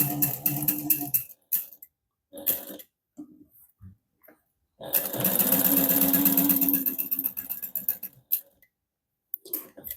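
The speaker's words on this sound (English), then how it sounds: "we're just going to sew that in place, also using a 1/8 inch seam allowance" Domestic sewing machine stitching vinyl with a 1/8 inch seam allowance and stitch length 4, a close rapid mechanical whirring in short bursts and one longer run, separated by pauses and faint handling noises.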